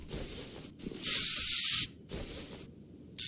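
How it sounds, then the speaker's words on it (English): A spray can of penetrating oil in Car Mechanic Simulator 2021 gives short hissing bursts: a long, loud spray in the middle and a brief one at the end, with softer hiss between. "You just spray it one time on something, and it just backs it off."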